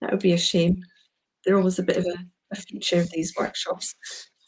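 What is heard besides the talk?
None of the usual background noises is heard.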